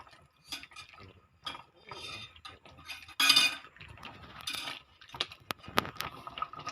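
Sago pearls and bilo bilo rice balls stirred in a pot for ginataang bilo bilo, with soft scraping and clinks of a utensil against the pot coming in scattered bursts, close and fairly quiet.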